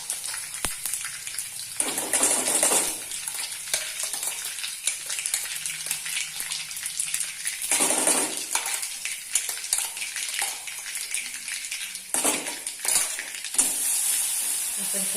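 Thecha, a crushed chili-garlic paste, fries and is stirred in a pan, giving a loud, constant sizzle with surging bursts as the spoon scrapes through, heard with no talk.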